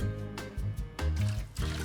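Hot water splashes and gurgles in short bursts as a wooden butter mould is rinsed in an Alpine home kitchen, the liquid sounds coming in uneven pulses beneath background music.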